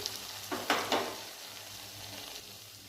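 Cumin powder, salt and turmeric frying in hot oil for Bengali cholar dal, a steady soft sizzle with a few louder stirring scrapes near the start, no voices.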